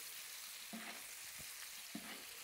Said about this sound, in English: I'm just going to baste it. This really hot butter is turned brown.